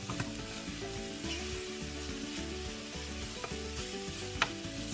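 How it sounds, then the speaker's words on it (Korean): Seasoned duck meat sizzles and crackles in a hot frying pan while being stir fried, a steady close frying hiss with occasional louder pops and scraping stirs. "Stir fry the meat."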